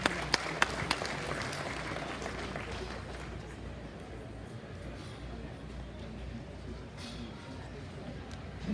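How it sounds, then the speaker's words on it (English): Audience applause in an arena at a livestock show with cattle, swine, sheep and goat classes, a steady dense patter of clapping filling the space at moderate level, a few sharper claps near the start and faint background noise throughout. "Let's give Sullivan Supply a round of applause."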